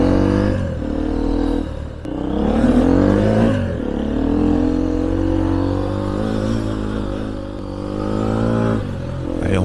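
A light enduro motorcycle is ridden at a test day, its engine revving up and down in uneven surges with gear changes, loud and close throughout.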